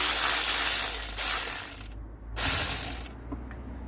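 Exhaust manifold nuts are loosened on a Fiat Bravo, giving close, loud runs of rapid ratchet clicking, two main bursts separated by a brief pause, with no speech.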